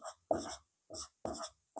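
Chalk or marker writing on a board during a Class 10 maths lesson on real numbers, heard as four scratchy strokes in quick succession with short pauses between, fairly close and alone without talk.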